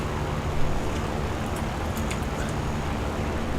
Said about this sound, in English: If you can hear the fan going on in the background